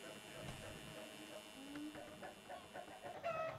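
Chickens cluck in a rainy-day farm scene in the video game Summer in Mara, with soft clucks and short calls over quiet game background sounds and light music.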